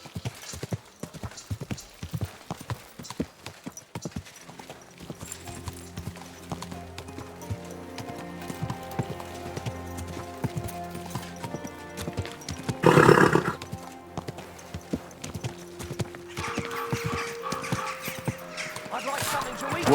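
Horse hooves clip-clop in a quick, uneven rhythm in the video game Kingdom Come: Deliverance 2, then fade under a steady musical drone, with a loud neigh-like burst midway and brief voices.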